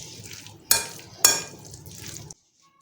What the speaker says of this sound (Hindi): अब इसको अच्छी तरह मिक्स करेंगे फिलिंग में